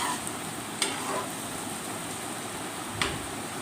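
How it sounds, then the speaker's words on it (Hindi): Bhindi (okra) frying in a pan, a soft, steady sizzle at low volume with two faint clinks of stirring, and no talking. "हमारी भिंडी अब जो है ना अच्छी खासी भून रही हैं"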